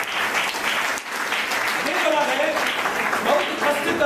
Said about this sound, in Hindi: तालियां बजा के परमेश्वर का नाम लो।